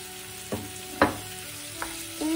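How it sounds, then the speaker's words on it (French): Minced meat and small chopped peppers fry in a pan with a soft, continuous sizzle, punctuated by a few scraping stirs of a utensil at close range, and no talking. "je vais ajouter ma viande hachée avec mes petits poivrons coupés en petits morceaux"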